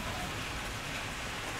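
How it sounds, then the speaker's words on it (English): Steady rain pours down in Malaysia, a dense, even hiss of drops hitting surfaces that stays at the same level throughout with no voices. "Just as rain o'clock strikes again."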